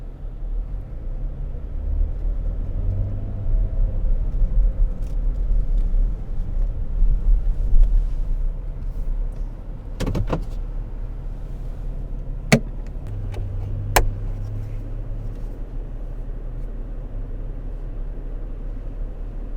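A car drives steadily through a residential neighborhood, its low engine rumble and road noise continuous throughout, with a few brief clicks and knocks inside the cabin around the middle.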